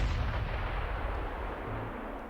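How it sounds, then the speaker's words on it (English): Artillery cannons firing in the video game RimWorld, heard as a dense, continuous rumble of deep booms with no gaps between the blasts, loud and alone throughout. "I do like these cannons."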